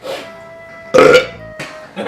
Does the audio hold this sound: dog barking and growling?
no